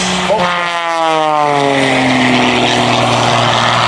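Aerobatic propeller airplane maneuvering at an air show, a loud close engine roar whose pitch slides smoothly as the plane banks and pulls through the turn, with no talking.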